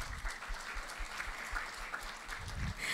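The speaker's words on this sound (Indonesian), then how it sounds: "Tepuk tangan bagi semua yang udah pakai." An audience at an Indonesian product introduction gives a fairly quiet burst of applause, steady scattered clapping filling the room, with no one talking over it.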